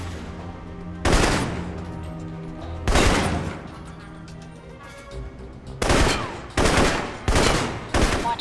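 Loud assault rifle bursts in the Alpha Protocol video game, four sustained volleys of rapid shots spaced a couple of seconds apart, each cutting off sharply, close and with no talking.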